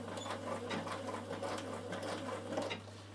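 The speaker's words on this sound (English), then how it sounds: "I'm going to go back to straight stitching" A Bernina sewing machine runs a continuous straight stitch through denim from upcycled jeans, a steady, even mechanical whir with a constant low hum throughout.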